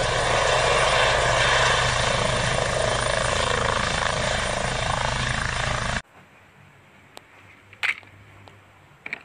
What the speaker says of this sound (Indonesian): Wow, ini ada helikopter.